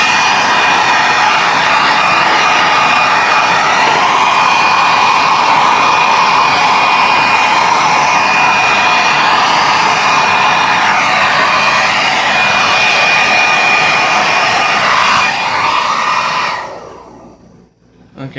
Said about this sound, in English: The hair dryer I'm using is a Conair 1500, and this thing gets really hot